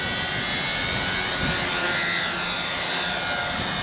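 A radio-controlled collective pitch helicopter flying outdoors produces a loud, steady high-pitched whine with broad rushing noise, continuous and close, with no voices.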